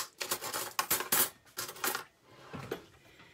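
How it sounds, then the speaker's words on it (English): A utensil scrapes and clinks against a pan while queso dip melts, producing a quiet cluster of metallic scratches and taps followed by softer stirring. "I'm just going to give it a little stir."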